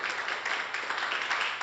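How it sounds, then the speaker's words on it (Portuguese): A church congregation applauds during a worship service, a steady wash of clapping hands from many people at moderate loudness, continuous for the whole short stretch with no voices standing out. "Você pode dar mais um aplauso ao Senhor Jesus?"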